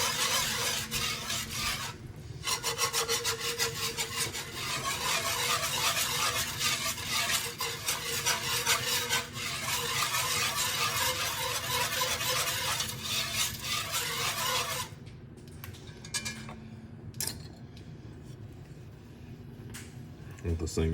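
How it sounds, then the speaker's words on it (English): A whisk scraping and stirring a roux in a pan, a steady close rhythmic rasping over a faint sizzle that carries on for most of the stretch, then drops to softer, sparser stirring near the end. "if you want to switch back and forth with your whisk, you can do that"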